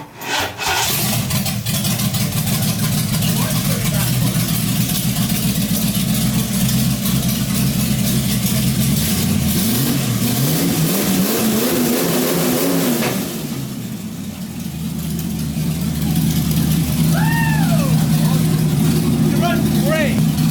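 An engine revs up and settles back to a steady idle, the note rising and falling around the middle, loud and close in a shop, with people talking over it.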